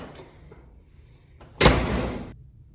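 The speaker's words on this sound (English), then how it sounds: "Please close the door on your way out." A door closes with a sharp, loud thud after a few faint shuffling sounds, followed by a short lingering rattle as it settles.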